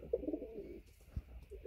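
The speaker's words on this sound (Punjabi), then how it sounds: "ਦੇਖੋ ਆਹ ਵੀ ਕਬੂਤਰੀ ਆਪਣੀ" A pigeon in a loft coos nearby, a low soft throaty call repeated in short bursts against quiet surroundings.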